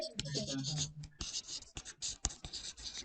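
Pen scratching on paper as numbers are written by hand for a cash budget exercise, a run of quick close strokes and taps with a voice briefly speaking at the start.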